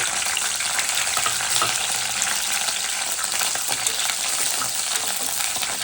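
Green and dried chillies frying in hot oil for a mango and coconut pickle tempering, giving a steady, close, continuous crackling sizzle throughout with no pauses and no voices.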